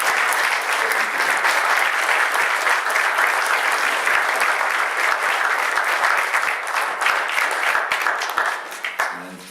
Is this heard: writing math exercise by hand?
no